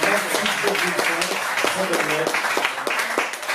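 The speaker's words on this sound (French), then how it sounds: "Nous avons Keiji, qu'on applaudit bien fort, s'il vous plaît." An audience claps at a slam poetry evening in a Nice venue, a steady patter of many hands under a speaking voice throughout.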